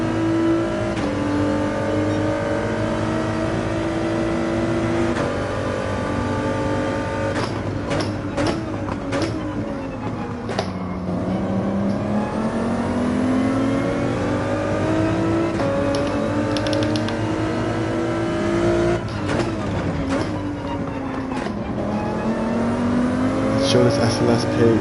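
Mercedes SLS race car engine in a racing video game, cockpit view, droning loud and steady, climbing in pitch through the gears with sharp shifts and revs, with a voice talking over it.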